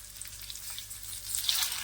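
Eggs frying on a tawa for egg masala give a soft, steady sizzle with fine crackling pops, rising slightly toward the end, close and quiet with no talking.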